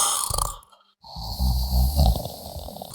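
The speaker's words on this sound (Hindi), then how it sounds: "उसके अंदर उसका गधा खर्राटे मार रहा था।" A cartoon donkey snores while asleep on a dusty, fallen quilt. The snore is loud and close, a deep rumbling breath that drops into a brief silence and then swells into another long, low snore.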